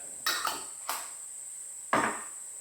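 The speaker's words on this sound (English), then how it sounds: "Give that a good old stir." A spoon stirs ginger and garlic in a cooking pan, giving a few short scraping clinks: two close together, then another, and a louder one a second later, over a steady high background hiss.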